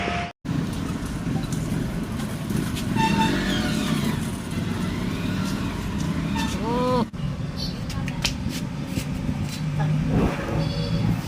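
A Swaraj 735 FE tractor with a worn, slipping clutch plate runs steadily at close range, its low engine drone continuous with brief rising revs, while people talk over it.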